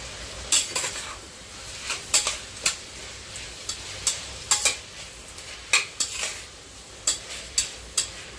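Peas, potato and tomato being stirred together in a pan for matar paneer pulao, a spoon scraping and clinking against the metal in irregular strokes over a faint background sizzle, with no voices.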